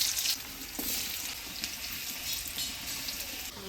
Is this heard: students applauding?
no